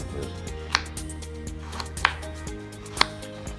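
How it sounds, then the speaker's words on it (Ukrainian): A knife chops carrot into big chunks on a board, three sharp cuts spaced about a second apart, with a low background hum and no talking. "Великими кусками нарізаю"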